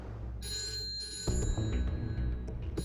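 A telephone rings in the middle of the night at 2 a.m., a bright electronic trill that repeats in short bursts, heard moderately loud over a low rumbling background.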